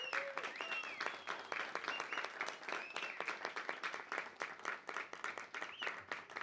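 Audience clapping at a choro concert with a regional ensemble, a steady round of applause from a small crowd that holds through the whole stretch without pause.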